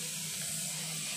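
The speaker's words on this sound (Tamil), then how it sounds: "ஸ்ட்ரீம் ட்ரெயினில் வரும்ல அந்த மாதிரி போக வருது" Steady hiss of steam escaping from a puttu cooker on a home stove, a continuous broadband rush without breaks, fairly quiet and close, with no talk over it.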